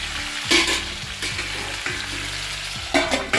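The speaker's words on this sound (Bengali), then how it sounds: "এখন ঢাকা দিয়ে খানিক্ষণ কষিয়ে নেব" Gourd and potato with green chili, salt and turmeric sautéing in a pan, a steady close sizzle broken by several sharp stirring scrapes and clatters of the spoon against the pan.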